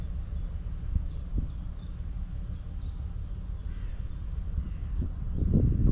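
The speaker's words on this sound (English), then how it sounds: "appreciate the sound of the birds singing" Small birds chirp in a quick repeating series of high notes in the distance over a steady outdoor rumble of wind.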